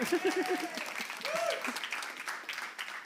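Audience clapping at an iOS app launch party, a fairly faint, loose patter of hands in a room, mixed with scattered voices and brief tonal sounds.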